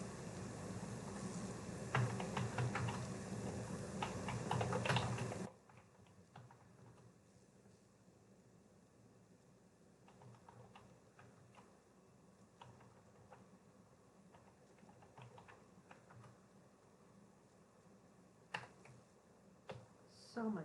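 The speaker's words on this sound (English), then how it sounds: "So much typing difficulty I'm having today." Keys clatter on a computer keyboard, a busy, louder burst at first, then sparse, faint clicks and taps in a quiet room.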